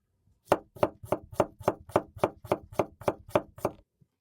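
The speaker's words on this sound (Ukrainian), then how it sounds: "Тепер прийшов час нарізати наш огірочок. Просто нарізаємо кольцем." A knife slicing a cucumber into rings on a board, twelve crisp, evenly spaced chops in a steady quick rhythm, close and clear with no talk.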